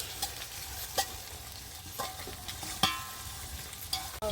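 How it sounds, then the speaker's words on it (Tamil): Ginger garlic paste sautéing in oil for prawn biryani, a steady close sizzle broken by a few sharp scrapes and clinks of a stirring spoon against the pan. "இஞ்சி பூண்டு பேஸ்ட் போட்டு நல்லா எண்ணெய் பிரிஞ்சு வர வரைக்கும் நல்லா வதக்கலாம்."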